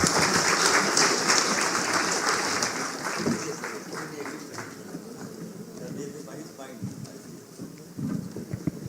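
An audience at a stakeholder summit in Delhi applauds loudly at first, then the clapping thins and fades into scattered claps and talk.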